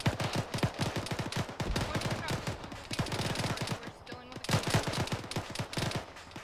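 Rapid bursts of gunfire crack out during a military field training exercise, dense and close, forming sustained volleys with a short lull before firing resumes.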